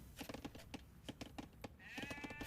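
Sheep bleat again and again in a strategy video game, short nasal calls in a quick steady rhythm over clicking, with a bright ringing tone rising in the last second.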